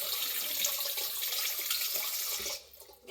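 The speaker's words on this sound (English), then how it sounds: "I'm going to rinse my cutting board off." Water from a kitchen tap rinsing a cutting board, a steady hiss of running water splashing for nearly three seconds before briefly dropping off.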